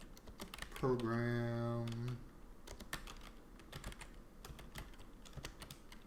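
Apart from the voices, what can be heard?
typing on a computer keyboard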